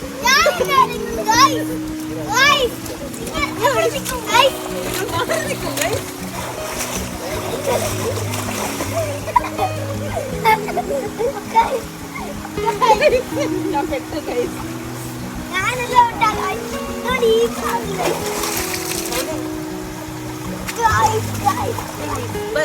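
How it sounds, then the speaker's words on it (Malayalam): Children play and splash in a stream during a morning bath, close splashes and water churning scattered through lively kids' chatter, shouts and laughter, with a low rhythmic background sound running underneath. "ഞങ്ങൾ വെള്ളത്തിൽ കളിക്കുന്നത് നിങ്ങളെ കാണിക്കാം."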